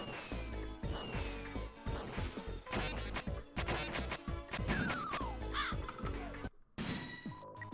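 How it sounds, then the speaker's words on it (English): Crows caw repeatedly in a video game amid a dense soundscape of music, crashes and effects, the calls rising and falling over several seconds with a brief drop-out near the end. "More crows."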